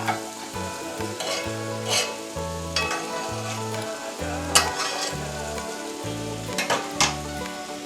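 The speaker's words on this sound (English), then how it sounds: "I added the sausage and the onions that I had set aside earlier into the pot. We'll stir that up real well." Sausage and onions are stirred in a cooking pot for a hillbilly hash, with a continuous sizzle of frying under repeated scraping strokes of a utensil and no speech. Background music plays throughout.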